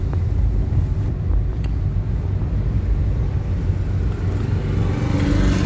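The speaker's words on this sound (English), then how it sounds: "I should move my car because people are arriving." A car engine runs nearby as the car is moved, a steady low rumble that swells slightly toward the end, with no voices.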